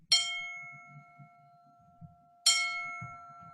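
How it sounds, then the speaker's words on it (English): A village church bell tolls for a funeral, two clear metallic strokes a couple of seconds apart, each ringing out and slowly decaying over faint background murmur. "I hear the village bell tolling for another funeral."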